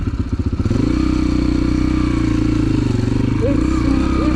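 A Yamaha TTR 125 motorcycle with a top-mounted exhaust starts with a few uneven pulses, then settles into a steady, close low idle throb that continues without break.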